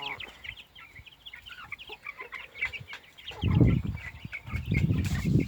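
Young chicks peep and cluck in a small flock of about sixteen, high chirps scattered near and far, with louder bursts of rustling and movement toward the end.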